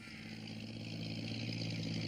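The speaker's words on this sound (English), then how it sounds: "It was Alf Thompson on his tractor." A tractor engine approaching through fog, a steady low rumble with a harmonic drone that grows gradually louder, continuous with no talk.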